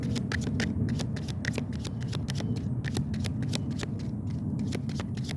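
Oracle cards are shuffled and drawn by hand outdoors in a busy park, a steady run of crisp papery riffles and flicks, close and continuous with no talking.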